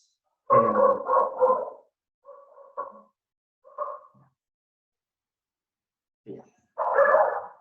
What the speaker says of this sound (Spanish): perdona que mis perros están muy contentos